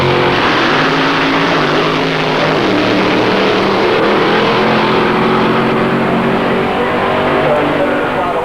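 A loud, continuous large-displacement V8 engine roar with a deep rumbling tone holds steady throughout, running hard nearby.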